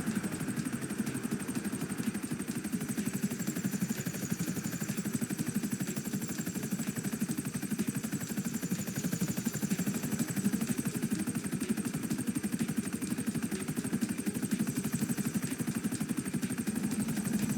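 A steady, droning helicopter engine from GTA V with rotor whir and a high whine, continuous and unchanging throughout, with no talking.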